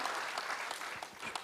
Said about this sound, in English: So a big round of applause in absentia for them.